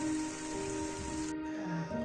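Light rain falling in the mountains, a steady soft patter of drops close by with tonal hums running underneath, no voices.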